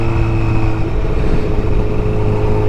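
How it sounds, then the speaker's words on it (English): Honda CBR1000RR motorcycle engine with 53,000 miles running steadily with a strong, even hum and a droning tone, close and loud, no voices. "The engine sounds healthy."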